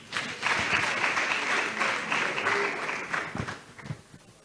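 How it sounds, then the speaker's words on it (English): An audience at a book launch breaks into applause, a fairly quiet but continuous patter of many hands lasting several seconds before thinning out into a few scattered claps. "Clap for him, please."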